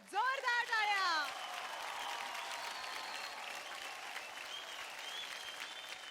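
Loud, steady applause from a dance-show audience, with a voice calling out over the start before the clapping continues alone.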